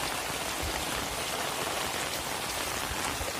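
Heavy rain pours steadily over flooded farm fields, a dense hiss of drops drumming on surfaces, with no voices.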